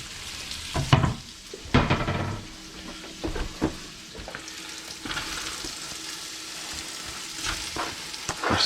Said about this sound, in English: Leeks go in.